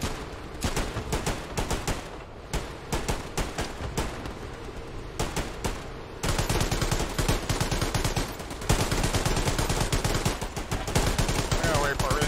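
Machine gun fire in the video game Hell Let Loose, rapid rattling bursts of shots in steady rhythm, growing louder and denser partway through, with a voice speaking faintly in the mix.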